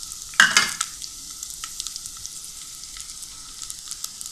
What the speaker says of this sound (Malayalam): കുറച്ച് ചെറിയ ഉള്ളി നമ്മൾ അതിലേക്ക് ഇട്ട് കൊടുക്കണം.